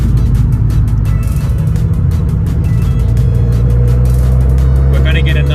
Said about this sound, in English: The old Garrett turbo obviously takes a while to spool